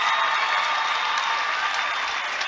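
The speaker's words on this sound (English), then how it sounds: "Getting hugs and a round of applause from the Marinette fans and the LC fans." A gym crowd at a Marinette versus Luxemburg high school basketball game gives a sustained round of applause, dense and continuous, honoring a player's 1,000th career point.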